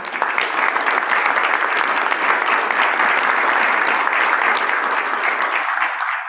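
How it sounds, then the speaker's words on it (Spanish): Audience applause for a founding ex-president at a gathering on the rule of law and judicial independence: sustained, dense clapping at full strength for about six seconds, fading slightly at the end. "un aplauso para él"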